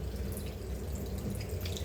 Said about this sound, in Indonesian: yang pertama cuci tangan yang bersih menggunakan keran air mengalir seperti ini.